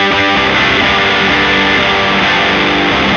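A distorted rock guitar plays through a speaker cabinet, captured by several time-aligned cabinet microphones: a loud, dense, sustained wall of overdriven chords rings continuously, alone with no talking.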